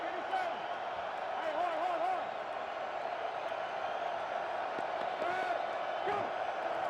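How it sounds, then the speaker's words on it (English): Nearly 30,000 fans at an XFL football game in a dome arena produce a constant roar of crowd noise with whoops, under steady talk throughout. "now crowd noise becomes an issue here in the Dome"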